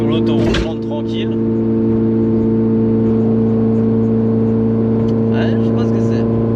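Car cruising on a motorway heard from inside, a steady loud engine and road drone with a constant hum, with a brief swell of wind or passing noise near the start.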